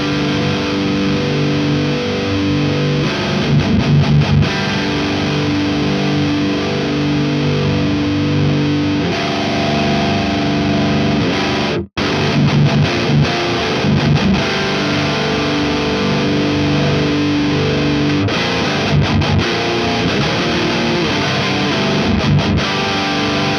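Electric guitar played through an Omega Ampworks Granophyre amp with delay and reverb switched on, a loud, steady distorted tone with sustained chords and repeats trailing off, briefly cutting out near the middle before resuming, with no talking.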